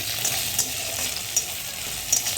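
Ginger garlic paste frying in a pan, a steady close sizzle with a few light stirring scrapes at regular intervals and no talking.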